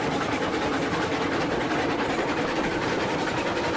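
A heavy train rolls in the RailRoads Online video game, giving off a dense, steady rumbling wash of wheel and engine noise with no pauses and no voices.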